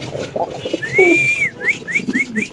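Pigeons at a pigeon farm coo softly, with a run of several rising whistled calls close by.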